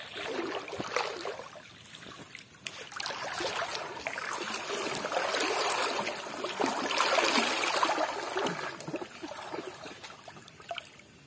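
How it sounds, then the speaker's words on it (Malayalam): Fast-flowing stream water at a fishing spot, rushing in a continuous broad wash that swells louder toward the middle and stays close and steady throughout, with no talk. "പക്ഷെ ഒഴുക്കുണ്ട് വെള്ളത്തിന് നല്ല ഒഴുക്കുണ്ട്"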